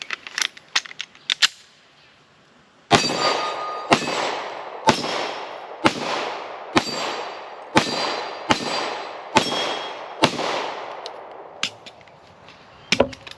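A Springfield Echelon pistol fires Sig Sauer V Crown 124 grain hollow points: a few sharp handling clicks, then ten loud, evenly paced gunshots about a second apart, each with a ringing tail.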